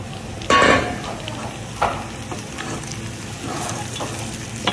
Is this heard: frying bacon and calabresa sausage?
yes